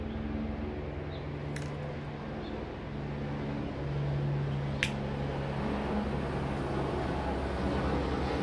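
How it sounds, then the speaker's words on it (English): A helicopter passes overhead with a steady low droning hum that holds for about eight seconds at moderate loudness, broken by a couple of sharp clicks. "it's just a stupid helicopter"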